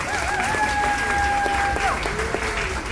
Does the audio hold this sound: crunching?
no